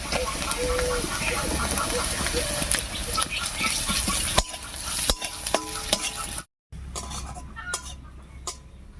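Chopped ginger, garlic and green chili hit browned onions in a hot pan for a dal tarka, giving a close sizzle with stirring scrapes and clatter; the sizzle drops briefly, then resumes more quietly.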